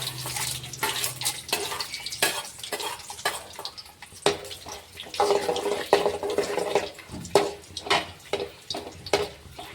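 Peanuts and chana dal frying in a pan for millet-mix upma, with repeated sharp spoon scrapes and clinks against the pan over a low sizzle, irregular stirring strokes close up and no voices.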